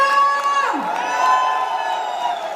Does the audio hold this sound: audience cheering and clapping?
yes